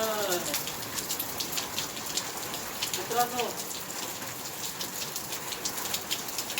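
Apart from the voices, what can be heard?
first monsoon rain falling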